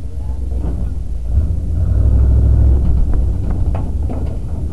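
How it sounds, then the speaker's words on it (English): Low, steady rumble of a pickup truck driving while towing a lawnmower behind it, a continuous engine and road drone that swells slightly midway, with no clear talk over it. "we're yanking the lawnmower behind my cousin's truck"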